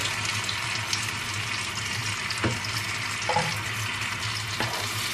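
Grated large tomato poured over sausages frying in a pan for a breakfast sauce gives a steady, close sizzle and bubbling throughout, with a few soft knocks and scrapes from the pan.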